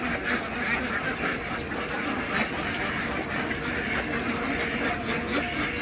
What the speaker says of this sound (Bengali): হলুদ ঠোঁট উঁচিয়ে তাদের সেই যে চিরচায়িত শব্দ সেই শব্দ করে তারা এখানে আসছে